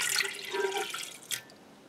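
A cup of water is poured into a bread maker, a short quiet trickle and splash that ends with a brief final splash.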